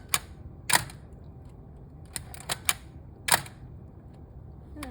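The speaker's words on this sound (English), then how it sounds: "In the meantime, it has just cocked the shutter, but it has not advanced the film at all." A Nikon F3 film camera has its shutter cocked without advancing the film and is fired for multiple exposures, giving a series of sharp mechanical clicks and snaps, close up, with no talking.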